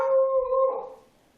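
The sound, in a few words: dog barking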